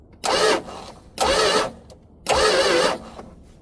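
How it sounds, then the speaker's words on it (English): A 1971 Dodge Charger, abandoned since 1995, with its engine being cranked over by the starter in three bursts of rough whirring, loud and close, with short pauses between them. "I'm going to turn it over until I see the compression gauge go up"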